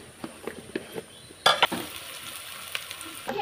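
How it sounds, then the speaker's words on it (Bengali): Onion frying in a pan over whole garam masala and dried chillies, a soft sizzle that jumps into a louder burst of hissing midway, with a few light scrapes and taps. "তারপরে এই যে পেঁয়াজ পেঁয়াজটা ভেজে নেবো একটু।"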